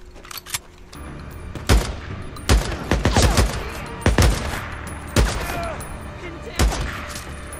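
Gunfire in the zombie survival game Days Gone, a string of sharp, loud separate shots and short volleys spaced irregularly over several seconds amid background game sounds.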